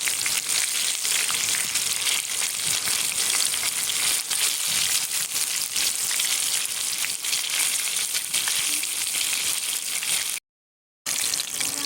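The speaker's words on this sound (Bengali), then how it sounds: "এরপর এক এক করে আমি চিকেনগুলো ভেজে নেব" Chicken pieces fry one by one in hot oil for a spicy five-five dish, giving a loud, steady sizzle that runs continuously, broken only by a brief silent gap near the end.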